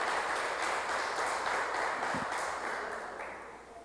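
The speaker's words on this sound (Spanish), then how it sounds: "Démosle un fuerte aplauso al Señor, hermano." Church congregation applauding, a dense, even wash of clapping that gradually fades toward the end.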